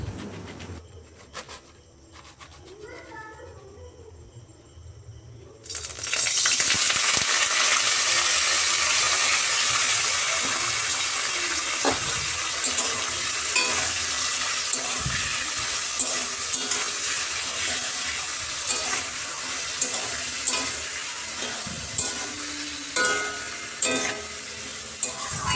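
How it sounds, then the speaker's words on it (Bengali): Potatoes frying in a pan on a home kitchen stove, a steady loud sizzle starting abruptly and continuing with scattered crackles and scraping stirs. "আর এই যে আমি এখন আলুটা ভেজে নেব।"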